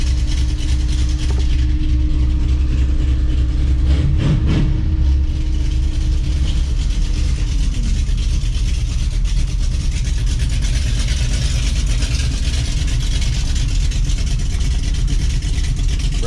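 A Dodge Ramcharger's newly installed engine runs steadily at a loud, close idle with a low rumble, and a brief rev swells around the middle before it settles again.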